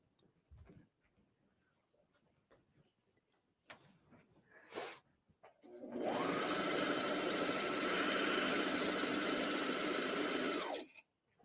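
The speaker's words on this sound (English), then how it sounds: "I am using the Brother Airflow 3000" A Brother Airflow 3000 serger stitches and trims fabric in a loud, fast, steady whir lasting about five seconds, preceded by quieter handling clicks and shuffles.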